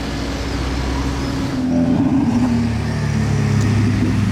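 A Mercedes S63 Brabus cabriolet driving past near the casino square in Monaco, a low engine rumble that swells as the car nears, over steady street background with no talk.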